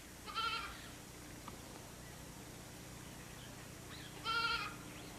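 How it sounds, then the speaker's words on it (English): A goat used by forest rangers in the Asiatic lion forest bleats twice, a near, wavering cry at the start and again near the end, with quiet outdoor ambience between. "The bleating of a goat lures lions from their thickets."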